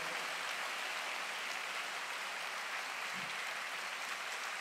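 A church congregation claps during a worship service, a faint, steady wash of applause that fills the whole stretch without a break.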